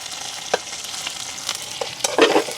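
Onions, green chillies and curry leaves fry in a pan on a village kitchen stove, a steady close sizzle broken by several scraping stirs of the spoon, the last one louder and longer; no voices.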